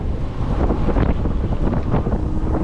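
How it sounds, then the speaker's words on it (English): Strong wind rumbles and buffets the microphone on a trip to Clearwater, a loud, steady roar with no voices. "Oh, it's windy."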